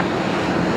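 Qantas airliner at Brisbane Airport, a steady loud engine roar with broadband noise, brief and unbroken, heard alone with no voices.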